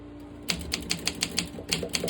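Keys struck on a vintage Olympia manual typewriter, a quick run of about nine sharp, close metallic clacks at an uneven typing rhythm over a faint background hum.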